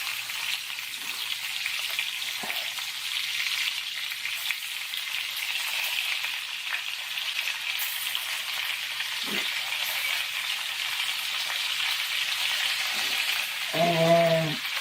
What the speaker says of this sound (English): to fry my shrimp in